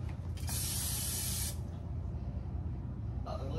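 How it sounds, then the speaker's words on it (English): A bright hissing spray of cooking oil onto a pan bursts for about a second, then stops, with a shorter second spritz near the end over low background rumble. "So I'm going to go ahead on and spray my pan."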